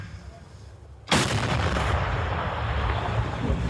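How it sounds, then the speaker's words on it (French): Artillery fire on the front line near Orikhiv, Ukraine: a single sudden heavy blast after quiet rumble, followed by a long loud rolling roar and rumble that fills the rest of the moment. "le tir est arrivé très près, à seulement quelques mètres de la cible"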